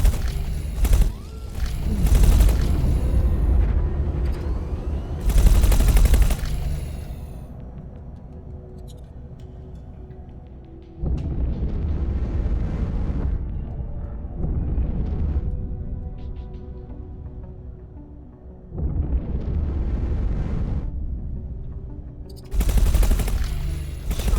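Turret gunfire from a space combat sequence in X4: Foundations, arriving as loud bursts of rapid shots separated by stretches of lower rumbling engine and ambient noise, with no voices.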